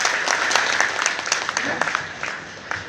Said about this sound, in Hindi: ज़रा तालियां बजा दें अपने लिए बैठने के लिए